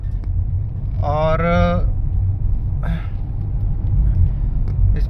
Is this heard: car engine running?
yes